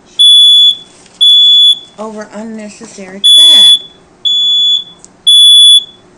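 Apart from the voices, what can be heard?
smoke detector beeping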